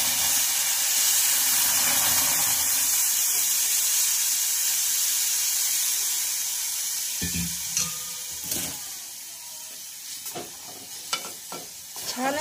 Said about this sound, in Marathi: तर यामध्ये आपण दूध घालूया।